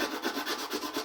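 Fingers rubbing over smoothed car bodywork during finishing, a steady close-up friction sound with soft rhythmic strokes, alone and moderately quiet.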